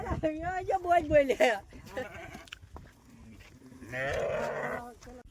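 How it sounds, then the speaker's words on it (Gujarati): Goats gathered together at a village Sheetla temple, with a single drawn-out bleat near the end, following a stretch of people talking close by. "અહીંયા બધા બકરા ભેગા કરી દીધા"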